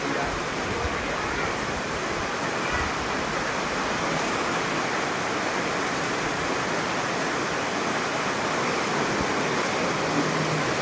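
Floodwater streaming past a home after heavy rain, a steady unbroken rushing hiss like a torrent or waterfall, moderately loud and constant from start to finish with no clear voices.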